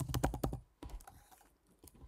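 Keys clatter in quick bursts on a computer keyboard, a fast run of taps followed by scattered lighter strokes and a final clack, close and fairly quiet with no talking.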